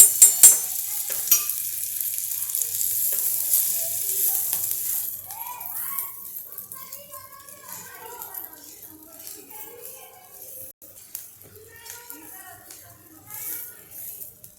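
Cluster bean thecha, a Hampi-style Karnataka chutney, fries in oil and is stirred in a pan, with a loud hiss at first that settles into softer, steady sizzling with scattered spoon scrapes.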